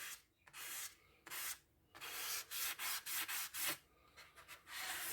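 Sandpaper held under a fingertip rubs across a model ship hull in repeated short strokes, close and fairly quiet, with brief pauses between passes and no talking.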